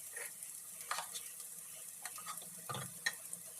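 Ginger garlic paste, turmeric and coriander powder frying in a home kitchen pan, a soft sizzle broken by scattered scraping and stirring clicks and one heavier clatter, fairly quiet, with no talking.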